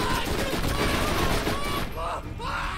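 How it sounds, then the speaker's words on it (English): Machine gun fire in the video game Borderlands: rapid, continuous bursts of shots, loud and close, over background game noise, stopping after about two seconds as brief voices and electronic tones follow. "this machine gun is so much better than my last one"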